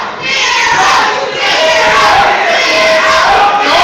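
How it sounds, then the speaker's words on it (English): Crowd at a wrestling event, a loud, dense roar of chanting voices that holds steady throughout, close and continuous. "with all the chants from the crowd"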